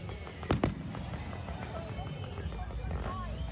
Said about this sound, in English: get a better view of the fireworks